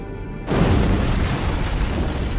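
An antimatter charge detonates aboard a ship in the Halo video game, a sudden loud boom that erupts after a brief quiet and rolls on as a dense, sustained rumbling roar.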